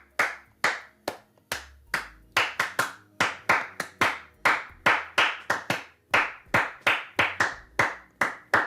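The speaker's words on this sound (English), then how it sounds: "Clap, clap" Rapid, steady hand clapping, around two dozen close, crisp claps over several seconds in a quiet room, aimed at triggering the music-sync lights of a UFO-shaped Bluetooth RGB nebula light projector.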